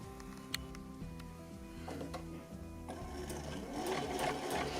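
A sewing machine stitching Christmas tree fabric, its needle running in a quick steady mechanical rhythm at close range, speeding briefly near the end.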